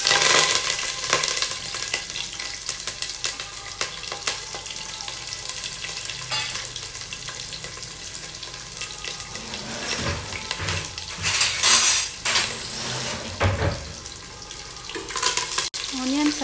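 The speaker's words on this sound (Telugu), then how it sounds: "ఆనియన్ కర్రీ లీవ్స్ వేసిన తర్వాత ఇవన్నీ కూడా గోల్డెన్ కలర్ వచ్చేంత వరకు ఫ్రై చేసుకోవాలండి." Mustard seeds, chana dal, onion, garlic and curry leaves fry in hot oil, a steady close crackling sizzle with occasional stirring scrapes and brief louder pops.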